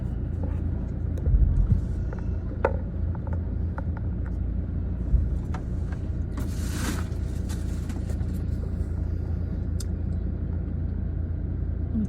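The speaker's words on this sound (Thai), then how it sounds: "ต้องใช้เวลาหน่อยเพราะมันรถติด" Slow traffic creeps along a jammed market street at Pratunam, off Phetchaburi Soi 21 in Bangkok, making a constant low engine rumble with occasional clatters and a passing swell, while voices murmur faintly nearby.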